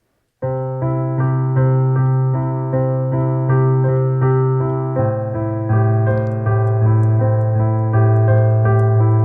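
Piano notes ring in a steady rhythm, a flowing arpeggio over evenly pulsed low bass notes, clear and close with no talking.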